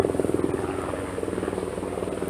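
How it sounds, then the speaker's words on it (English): A helicopter passes nearby, its rotor beating in a fast, steady pulsing chop that stays loud and constant throughout, with no talk over it. "Of course, here comes a helicopter."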